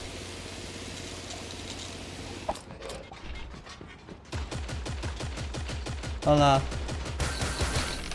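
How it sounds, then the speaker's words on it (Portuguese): AK rifle fire in the video game Creative Destruction crackles in quick bursts of rapid shots, fairly faint and mixed with game noise, while someone talks over it. "Ele me deu um rajadão de AK"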